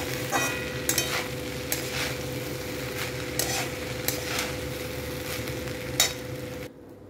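Cooked rice and vegetables stir-fried for vegetarian fried rice, with a steady close sizzle and scattered clinks and scrapes of a spatula against the pan, no talk.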